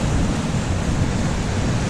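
Big, turbulent sea waves break and splash at Tresaith Beach in Wales, making a loud, steady roar of surf that fills the whole stretch without a pause.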